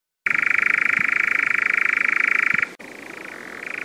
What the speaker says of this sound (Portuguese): O noitibó da Europa faz-se notar principalmente pelo seu canto que faz lembrar um inseto